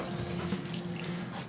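A small watering can pours chlorine-free water onto potting substrate before sowing pine seeds, a steady, continuous, close splashing stream with no talk.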